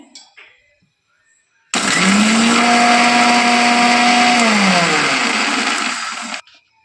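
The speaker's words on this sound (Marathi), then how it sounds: "हे आपल्याला जाडसर मिक्सरमधून वाटून घ्यायचं आहे" A mixer grinder coarsely grinding garlic and cumin whirs loudly for about five seconds, its motor whine rising at start and dropping before it stops, with brief faint sounds around it.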